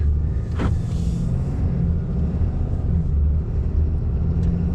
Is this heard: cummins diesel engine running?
yes